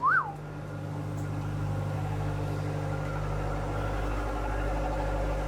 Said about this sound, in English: We'll leave that gen set on so you can have a listen.